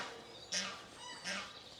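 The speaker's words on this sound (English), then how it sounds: "There was a lot of geese making a lot of racket." Two loud honking calls from geese, about a second apart, each a short burst standing out against quiet outdoor background.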